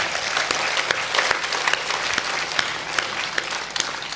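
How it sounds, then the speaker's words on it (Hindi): Audience at a Hindi kavi sammelan poetry gathering in Udaipur breaks into steady, dense clapping, a continuous close wash of many hands with no voices over it. "एक बार ताली बजा दीजिए"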